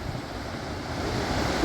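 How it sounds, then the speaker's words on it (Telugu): Gaganachukki waterfall on the Kaveri river in Karnataka, dropping roughly 300 to 400 feet during low, dry-season flow, gives a steady, dense roar of rushing water that holds at an even level throughout without pause. "ఇది వాటర్ ఫాల్."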